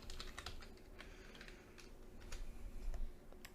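Rapid, uneven clicking of keys on a computer keyboard, typed in short close bursts with no talking.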